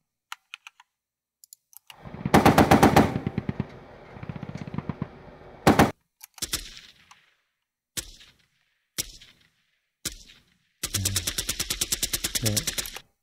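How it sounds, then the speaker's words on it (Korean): Gunfire from an AK-47 automatic rifle comes as loud rapid bursts, separated by single sharp shots and mechanical clacks, with a final sustained rattling burst. "AK-47 네, 자동소총 소리입니다."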